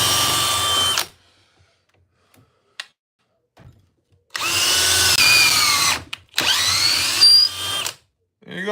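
A power drill driving big fasteners into wood that cracks, in three loud close bursts of whirring with pauses between, the later runs rising and slowing as the screws bite.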